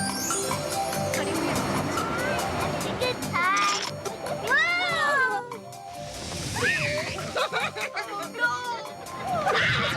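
Cats meowing in a Meow Mix cat food commercial, several rising, wavering meows repeated in quick succession over a busy jingle-like backing with voices.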